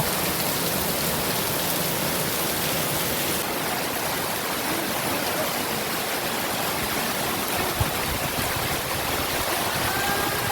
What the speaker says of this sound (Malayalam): പുറത്ത് നന്നായിട്ട് മഴ പെയ്തുകൊണ്ടിരിക്കുകയാണ്